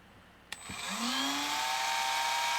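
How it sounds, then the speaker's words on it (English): A Dremel cutting disc bites into metal axles during a Ferrari 550 Maranello restoration, a sharp click followed by a steady, rising high-pitched whine as the disc spins up and grinds continuously, close and loud with no talking. "now I'm going to use a Dremel cutting disc to remove"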